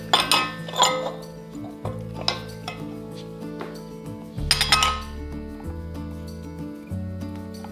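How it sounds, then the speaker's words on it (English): Metal parts of a GrainMaker grain mill, the auger and then the burr, clink and knock as they are fitted back on, a few sharp metallic taps and scrapes over a low steady hum. "And then you put your auger back on, and then your burr."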